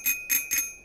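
A bell in a goose video game rings three times in quick succession, each stroke a bright, shimmering ting with a short ringing tail, clear and close with nothing else around it.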